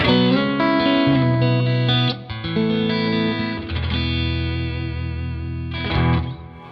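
An overdriven electric guitar plays loud distorted chords and notes through a cranked Louis Electric Deltone tube amplifier, with sustained crunchy tone and pauses between phrases.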